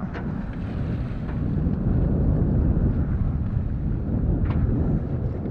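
A sailboat motoring into a headwind, with steady low rumble and broadband wind buffeting across the microphone throughout, loud and continuous with faint splashing water.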